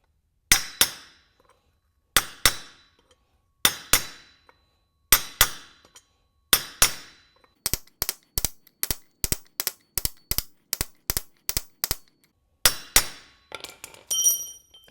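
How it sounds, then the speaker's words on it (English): Hammer blows drive a chisel against the outer race of a motorcycle wheel bearing, sounding as sharp metallic strikes in pairs, then a fast steady run of about a dozen evenly spaced hits, then a few more paired blows, close and loud. "we're back to the chisel here on the outer race though."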